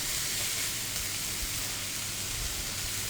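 Zucchini and carrot noodles sizzle steadily in a spoonful of hot oil in a pan, a dense continuous frying hiss that holds even and fairly loud throughout, with no voices.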